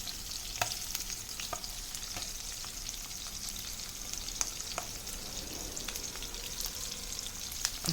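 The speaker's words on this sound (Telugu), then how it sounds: "వేగుతుంది, వేగిస్తుంది." Dry salt fish fries in oil in a pan, giving a constant crackling sizzle scattered with small pops and spits, steady and close with no voices.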